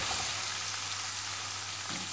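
Sliced onions frying in hot oil in a pan for a Hindi-style aloo mungre recipe, a steady close sizzling hiss that runs through the whole short stretch without talk.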